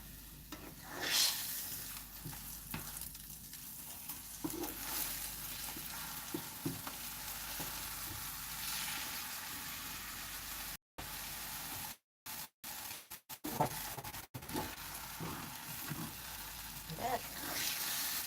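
A nettle omelette fries in a pan with a low continuous sizzle, broken by a few scraping, shuffling moments as it is turned over; the sound is close but fairly quiet.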